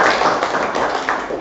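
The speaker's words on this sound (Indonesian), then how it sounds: "Mari kita berikan tepuk tangan." Students in a classroom break into brief, brisk applause after a group presentation, a dense patter of close hand claps lasting just over a second.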